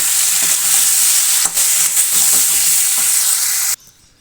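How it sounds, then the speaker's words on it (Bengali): Vegetables with chopped tomato, green chilli and cumin powder stir-fried in a pan, a loud continuous sizzle broken by rhythmic scraping strokes of a spatula, close up, no talking, stopping abruptly near the end. "এখন আমি দিয়ে দেবো এর মধ্যে কেটে রাখা টমেটো আর লঙ্কা আর কিছুটা পরিমাণে জিরের গুঁড়ো দিয়ে এবার সমস্তটা একসাথে ভালো মতন কষিয়ে নেব"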